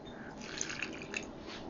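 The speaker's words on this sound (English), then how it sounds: "I think I'm going to start adding some broth" Broth poured into a tamale masa mixture, a brief soft splashing trickle of liquid close by, steady for under two seconds with no talk.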